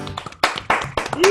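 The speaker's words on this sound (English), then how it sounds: "It's lovely to hear applause." Live audience applause at a music show, with clustered bursts of hand claps rising and falling over a short stretch while voices call out and cheer in between.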